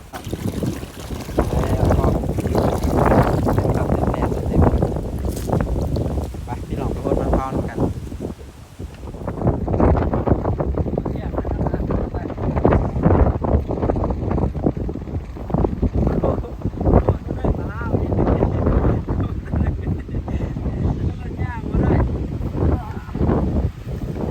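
Strong, dry wind of about seventy kilometres per hour roars over open farm fields, gusting in heavy buffeting waves against the microphone, with voices talking under the rush.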